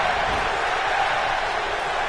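Steady, dense crowd roar from a WWE 2K20 wrestling match fills the arena continuously at an even level, with no distinct chant rhythm standing out.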